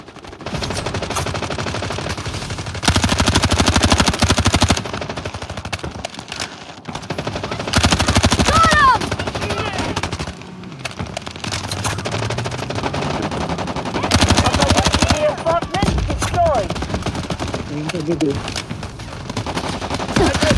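Automatic MCX rifle fire in the mobile shooter Delta Force Mobile, loud repeated bursts of rapid shots separated by short pauses, with in-game voice callouts and other game sounds mixed in.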